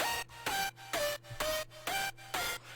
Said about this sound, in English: So instead of just having this one square sound, I added in a couple more